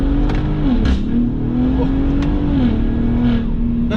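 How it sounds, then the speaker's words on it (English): A 2022 Ford Raptor Gen 3 pickup revs loud and close, its engine note rising and dipping in a couple of surges, with sharp backfire pops and crackles cutting through around the revs. "I just kind of backfired there."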